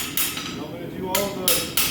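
A blacksmith forging hot iron at black heat strikes it with a hammer, giving three or four sharp, close metallic blows spaced unevenly over a short stretch, with quieter ringing between.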